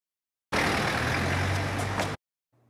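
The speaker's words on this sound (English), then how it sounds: "All the sounds in the clip, including the truck noises, are all diegetic." A truck at a port rumbles in a scene from the film Loin, with a loud, steady engine noise that begins abruptly, holds for about a second and a half, then cuts off.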